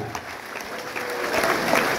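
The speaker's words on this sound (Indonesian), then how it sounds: "Ya, tepuk tangan untuk anggota DPR RI kita" A crowd at a Democrat party training event in Indonesia applauds elected national parliament members, a steady, dense wash of clapping heard at a moderate distance.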